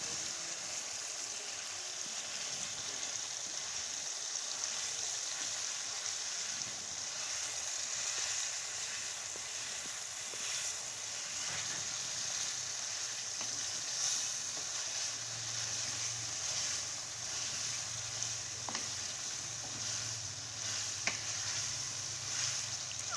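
Chicken mince frying with kachnar in a pan, a steady soft sizzle with faint stirring scrapes, continuous and fairly quiet throughout.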